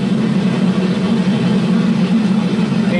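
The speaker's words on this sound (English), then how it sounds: "now the roar of the engine is going to kind of hypnotize you" Steady low drone of an aircraft engine in a film soundtrack, a continuous hum that holds level throughout with no other sounds on top.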